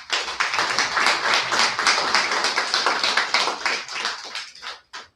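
A small audience claps steadily and close by for about five seconds at an academic lecture, the clapping dense and even before it trails off to a few scattered claps.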